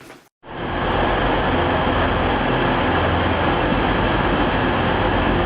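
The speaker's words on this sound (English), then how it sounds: "Alright, here's the train." A train rumbles into a station as a loud, steady, close rolling roar that sets in abruptly after a brief gap and holds without letup, with no voices over it.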